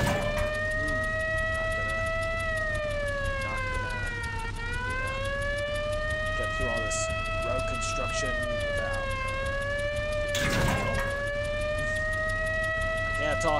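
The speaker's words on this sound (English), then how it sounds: "The siren's giving me a headache." A police siren in the Cars CD-ROM video game wails loudly and continuously, its pitch sweeping up and down in slow cycles, with brief bursts of other game sounds layered on top.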